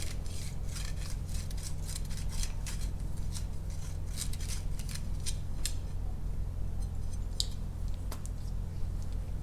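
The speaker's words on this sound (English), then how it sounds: "Little deburring tool." A small deburring tool scraping the cut edge of a steel fuel line on a 1971 Dodge D700 ramp truck, with rapid rhythmic rasping strokes close up over a steady low hum, tapering off after a few seconds.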